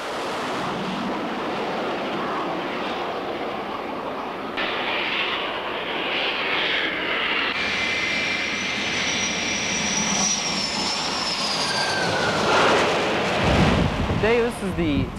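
A jet aircraft engine roars steadily and rises in pitch as the plane is launched by a carrier catapult from the forward deck of a ship, ending in a loud rushing whoosh.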